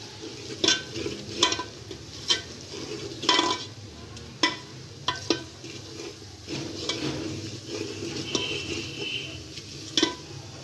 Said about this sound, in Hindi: इसमें नमक लाल मिर्च कसूरी मेथी वगैरह और इसको एक से दो मिनट तक भूनेंगे